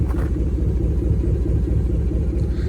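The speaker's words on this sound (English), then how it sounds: "The truck has a muffler delete, which has a really nice sound." A 2014 GMC Sierra 1500 pickup with a muffler delete idles with a deep, steady low rumble, close and even, with no voices present.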